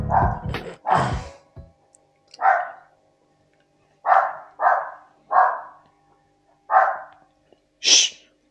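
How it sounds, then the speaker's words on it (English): A dog barks about six times in separate, evenly spaced single woofs, close and loud, with a sharp higher yelp at the end and some rustling handling noise at the start. "The fucking dog barking all the time."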